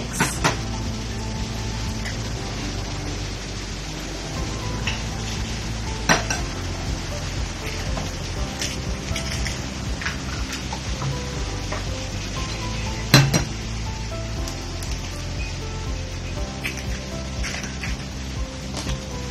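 Yogurt whisked in a mixing bowl for a rhubarb cake batter, a steady scraping and light clinking of the whisk against the bowl throughout, with a few sharper knocks.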